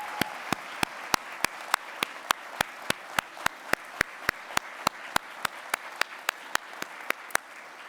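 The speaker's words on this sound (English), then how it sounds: "Let's give it applause." Applause at the Broadcom MASTERS 2022 awards ceremony comes as an even, rhythmic clapping over a soft crowd wash. Regular sharp claps repeat about three times per second, moderately distant.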